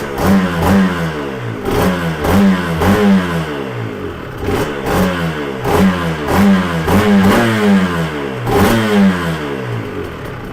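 A Yamaha TZR 250 3XV two-stroke motorcycle engine revs loudly again and again, rising and falling in repeated bursts and returning toward idle between throttle blips, close up with no talking.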